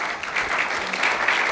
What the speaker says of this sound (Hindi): संजय उपाध्याय जी के लिए भी तालियां।